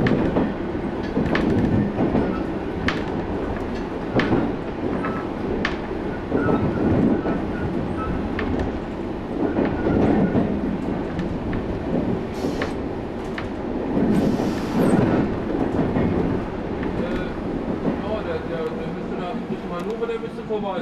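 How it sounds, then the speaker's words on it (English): A train rolls steadily along the rails approaching Braunschweig station, with rhythmic clickety-clack and rumbling, continuous and fairly loud, with occasional voices in the background. "The train is about to enter the Braunschweig station."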